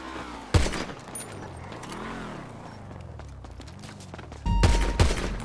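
Two bursts of rapid gunfire in a video game, one early and one near the end, with a vehicle engine humming and revving between them.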